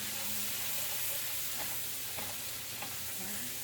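Chopped onion sizzles steadily in hot bacon fat, a close, constant frying hiss with a few faint stirring scrapes and no talking.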